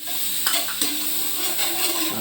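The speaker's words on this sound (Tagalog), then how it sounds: "butter yung gagamitin natin sa panggisa ng mga sangkap natin" Garlic and mushrooms frying in butter in a pan for creamy pork mushroom, a dense continuous sizzle close up, broken by a couple of brief scraping stirs, with no voices.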